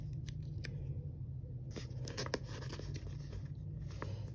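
A craft map sticker sheet with little star stickers crackles and scratches as a sticker is peeled off, a run of close, dry tearing rasps and small snaps over a steady low hum.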